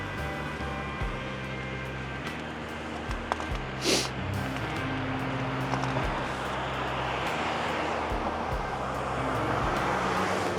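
Cars passing on a road at night, a steady wash of traffic noise with a distant vehicle swelling closer toward the end, under a low hum.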